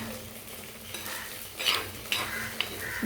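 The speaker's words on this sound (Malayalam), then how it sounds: "ഇത് നമുക്കൊന്ന് ഇളക്കി കൊടുക്കാമേ" Spoon stirring a simmering dried stingray fish curry with mango and drumstick in a pot, soft scraping and a few light clinks of metal over a quiet bubbling background, close and fairly faint.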